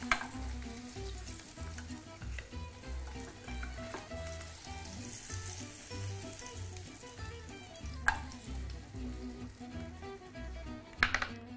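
Halloumi cheese fries in oil alongside onions with a continuous, fairly quiet sizzle and crackle, broken by a few sharp utensil clacks against the pan and no speech.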